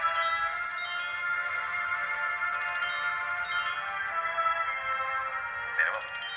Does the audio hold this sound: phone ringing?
yes